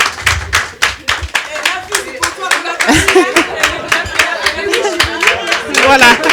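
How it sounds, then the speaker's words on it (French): An audience at an entrepreneurship brunch gives the host a loud round of applause, with steady, distinct hand claps close by and voices talking underneath throughout. "je vous demande de l'applaudir très fort"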